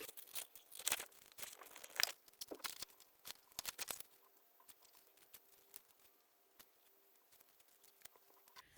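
Scissors snipping card and paper while crafting an explosion box, with a busy run of crisp cuts and crinkling handling noises close by, then quieter, sparser snips and rustles trailing off.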